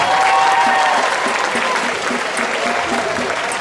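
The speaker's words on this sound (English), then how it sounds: "Give them all a big round of applause." Loud sustained applause from a crowd, dense clapping that carries on without a break, with a few voices faintly audible beneath.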